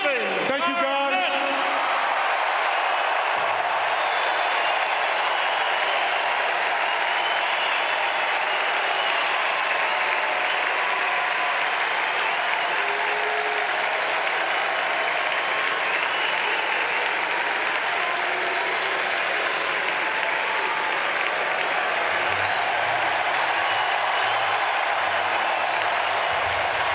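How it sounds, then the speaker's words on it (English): A large arena crowd at Kevin Garnett's Celtics jersey retirement ceremony applauds loudly and continuously, a dense roar of clapping and cheering that carries on for the whole stretch. "how about one final applause for number 5, Kevin."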